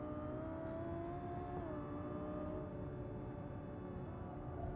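Muted car engine hum and wind rush heard from inside the cabin of a quiet car at highway speed in BeamNG, a faint steady drone with a gently shifting engine tone.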